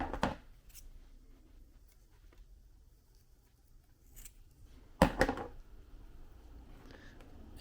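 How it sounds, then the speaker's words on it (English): Scissors snip the thread on a Viking-style leather coin purse, with a crisp cut near the start and a louder double snip later, close by amid quiet handling noise and no talking. "So I'm going to just snip it about here"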